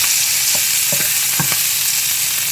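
Tilapia fillets sizzle and crackle as they pan-fry in melted margarine, a loud continuous frying hiss with a few soft clinks and scrapes from a utensil, and no talking.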